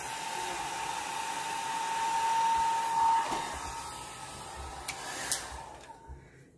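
A hair dryer blows steadily, drying alcohol ink in pitch black applied with an airbrush, its hum swelling slightly midway before fading out near the end beside a few soft clicks.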